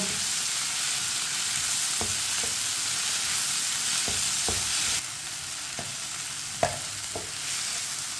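Tomatoes cook in a pan for stuffed karela, giving a constant hiss of frying with occasional sharp clicks and knocks from the spoon against the pan, close and steady.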